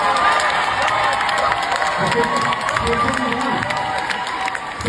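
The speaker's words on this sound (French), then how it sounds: "dès qu'on dit le nom Dorothée, il y a les applaudissements immédiatement" A packed cinema audience at a Smurfs premiere at the Grand Rex in Paris cheers and applauds loudly as a guest is announced, with sustained clapping, shouts and children's voices blending into a continuous roar.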